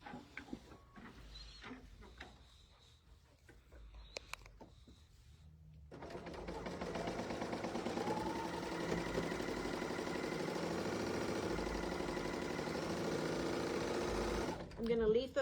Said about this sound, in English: we're going to stitch that seam